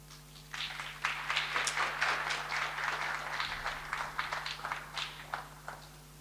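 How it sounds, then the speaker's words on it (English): A conference audience applauds architect Ahmet Vefik Alp at INTERARCH 2018, with steady, moderately loud clapping from many hands that continues for several seconds without easing off. "Applause for Mr. Alp."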